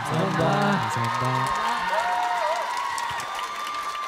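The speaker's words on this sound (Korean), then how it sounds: "다시 한번 뜨거운 박수 부탁드립니다" A studio audience applauds and cheers loudly at the final of a televised idol trainee music competition, with steady dense clapping, whoops and shouts filling the whole stretch while a voice briefly rises over the crowd.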